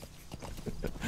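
A horse's hooves clip-clopping while ridden in the open-world game Metal Gear Solid V: The Phantom Pain, a quiet run of quick, evenly spaced hoof thuds over about a second.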